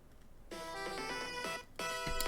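A phone ringtone plays nearby: a bright electronic melody of tonal notes, a run of about a second, a short pause, then another burst, with no talking.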